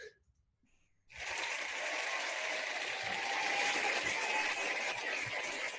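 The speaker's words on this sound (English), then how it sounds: "The crowd is cheering." Applause from a lecture audience at the end of a physics colloquium talk, starting abruptly after a second of near silence and then holding steady as a dense, even clatter of clapping.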